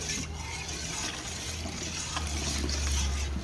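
Warm water poured into a cooking pot of curry chataigne with pig tail, a steady close gushing splash with a deepening low rumble as the pot fills, no talk.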